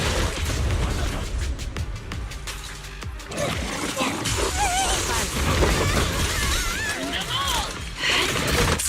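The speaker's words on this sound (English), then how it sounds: "Ooh, pretty fireworks!" Firework-like explosions in the video game Zenless Zone Zero: repeated booms and crackling bursts mixed with game effects and music, with a voice speaking over parts of it.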